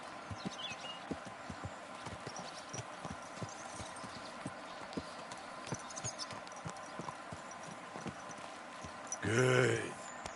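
Steady clip-clop of a horse's hooves on a hard surface, regular and fairly close, with a short loud voice or snort near the end.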